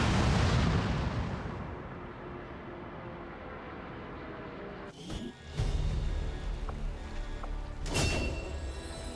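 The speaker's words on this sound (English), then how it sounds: "Detonating charges." Explosive charges detonate in the strategy video game XCOM 2, with a loud rumbling blast that fades to a low roar, followed by sharp bursts and booms a few seconds apart.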